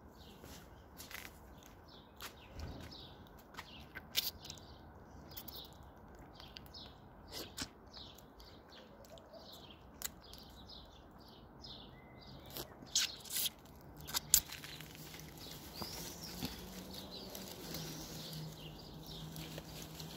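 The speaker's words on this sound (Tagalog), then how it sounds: "Daming ibon." Many birds chirp and twitter continuously in the distance in a garden, overlapping calls over a quiet outdoor background with occasional soft knocks and rustles.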